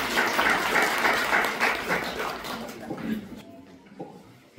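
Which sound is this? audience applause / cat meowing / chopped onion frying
audience applause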